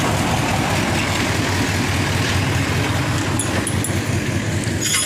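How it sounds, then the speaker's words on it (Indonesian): An old 12-wheel Hino truck's large diesel engine idles steadily, a low continuous rumble with even mechanical chugging, close and loud throughout. "kita bisa dengar suara mesinnya bosku"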